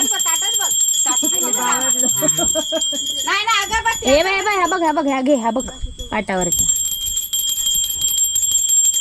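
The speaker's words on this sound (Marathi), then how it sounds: "हे वाजवा घंटा वाजवा जोरात" A bright, high metallic prayer bell rings continuously during Nag Panchami worship in Rajapur, Konkan, while several people talk and chant loudly over it nearby.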